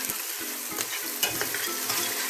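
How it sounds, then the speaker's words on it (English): Onions sauteing in olive oil over mid heat in a pan, a steady close sizzle with occasional stirring scrapes and small pops, no voices. "let those onions saute nicely"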